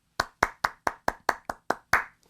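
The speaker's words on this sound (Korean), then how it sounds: "우리 하나님께 감사의 박수 올려드리겠습니다" At a middle-school Sunday worship service, the congregation claps in thanks: about nine sharp, evenly spaced claps in quick rhythm, fairly close and clear, with no talking.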